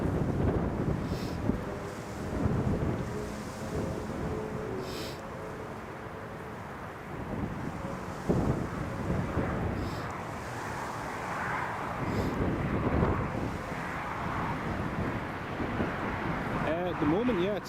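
Strong southwesterly storm wind buffets the microphone at Newcastle Airport during Storm Isha, a loud continuous rumbling roar with gusts, while people talk over it.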